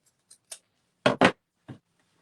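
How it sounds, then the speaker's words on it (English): Scissors snip a fabric handle on a screen-printed gift bag: a few light cuts, then two crisp, louder snips in quick succession and one final softer snip, close and isolated in a quiet room. "I just actually need to trim that one just slightly"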